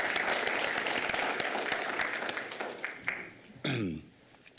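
A round of applause at a regular city council meeting: a modest group clapping at moderate distance, individual claps distinct, fading out after about three seconds before a brief voice or throat-clear breaks the quiet.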